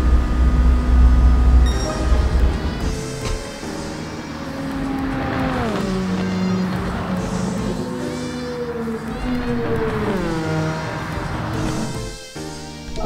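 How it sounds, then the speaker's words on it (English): A Japanese FR sports car engine in Gran Turismo 7 revs up and down, its pitch climbing and dropping through gear changes, loud and continuous. "Listen to the sound of a car,"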